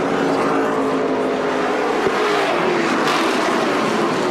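On-board sound of a NASCAR Canadian Tire Series race car at Edmonton, its engine revving hard and steadily through a close-ratio transmission, loud and continuous with shifting pitch as it climbs through the gears.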